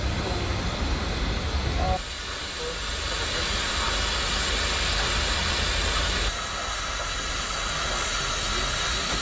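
Steam locomotive at a depot releasing a loud, steady hiss of steam, with a heavier burst at the start that drops to a continuous rushing hiss, no voices.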